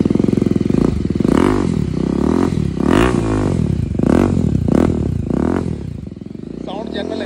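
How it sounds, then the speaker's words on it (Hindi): BMW G310 RR with a stainless steel LeoVince full exhaust, revved repeatedly in loud, close bursts that swell and drop between a throbbing idle, with a faint voice near the end. "और अब सुनाने वाले हैं आपको लुएंसी की जो कि स्टेनलेस स्टील का इसके अंदर लगा दिया गया,"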